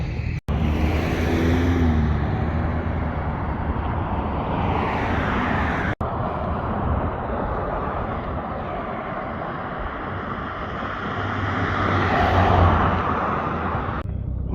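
Traffic passing a highway on-ramp in Tucson, a continuous broad rush of vehicles swelling and fading as cars go by nearby, no talking.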